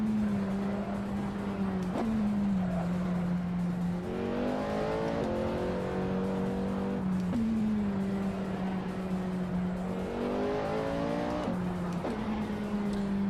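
Race car engine in the iRacing sim revving hard and continuously, pitch climbing through upshifts and dropping on lifts, with occasional tire squeal underneath the loud steady drone.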